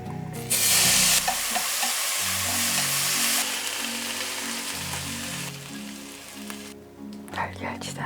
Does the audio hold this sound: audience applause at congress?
no